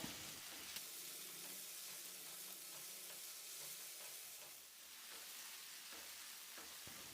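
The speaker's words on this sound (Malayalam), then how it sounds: "ഇനി നമുക്കിതിലേക്ക് എരിവിനനുസരിച്ച് പച്ചമുളക് ചേർത്ത് കൊടുക്കാം ഞാനിവിടെ രണ്ട് വലിയ പച്ചമുളകാണ് കേട്ടോ ചേർത്ത് കൊടുക്കുന്നത് പിന്നെ ആവശ്യത്തിന് കറിവേപ്പിലയും കൂടി ചേർത്തിട്ട് എല്ലാം നല്ലപോലെ ഒന്ന് വഴറ്റിയെടുക്കാം" Onions, two large green chilies and curry leaves sautéing in a pan for pepper chicken, giving a dense, continuous sizzle overlaid with steady stirring and scraping, close and fairly loud throughout.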